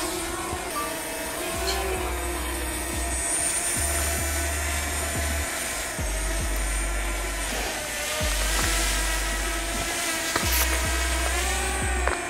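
A camera drone climbs with a steady, high, buzzing whine from its rotors, holding a constant pitch that shifts slightly over several seconds, with a low pulsing hum underneath and no talk.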